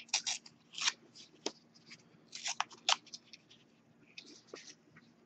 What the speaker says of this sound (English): I'm going to rip each letter apart because I want to put them separately on the page